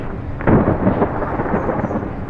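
Rain and a rolling thunder rumble in Bus Simulator Indonesia, a steady wash of rain with a deep swelling boom near the start.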